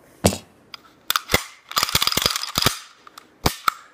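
A SIG revolver being handled up close, a series of sharp metallic clicks and ratcheting mechanism snaps in irregular bursts, some in quick clusters, with no talking.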